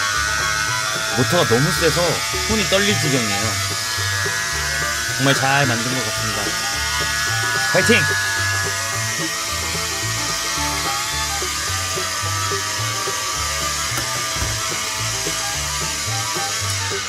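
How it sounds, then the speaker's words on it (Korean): A homemade DC motor with glued magnets and brushes drives a mini fan with a 3D-printed propeller, giving a constant buzzing whir throughout while a person talks over it. "와, 모터가 너무 세서 손이 떨릴 지경이에요."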